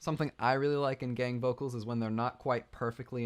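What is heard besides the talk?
No distinct noise like a dog, phone or traffic.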